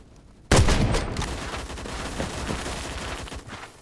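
A sudden burst of rapid gunfire from the Phantom Forces first-person shooter game, loud and dense at first and then trailing into rattling shots and echoes for several seconds.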